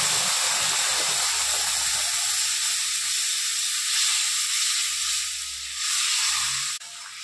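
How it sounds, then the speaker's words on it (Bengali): Tomato paste fries in hot oil with bay leaf and black cumin while cooking a Bengali rohu fish curry, a steady close sizzling hiss that carries on evenly, with faint low stirring thumps and no talk. "টমেটো পেস্টটা ভালো করে ভেজে নেবো যাতে গন্ধ না থাকে"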